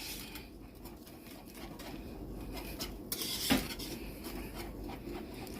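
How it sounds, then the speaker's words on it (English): A spoon scraping and stirring jalapeno mac and cheese in a pot, soft rasping and clinking strokes with a sharper metallic knock midway, fairly quiet and close. "Go ahead and get that stirred up good."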